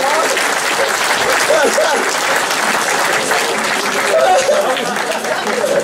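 A crowd at the podium ceremony of an SSV off-road rally applauds steadily and loudly, dense clapping filling the whole stretch with murmured chatter and a few voices underneath.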